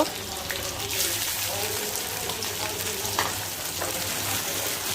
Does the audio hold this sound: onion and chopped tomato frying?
yes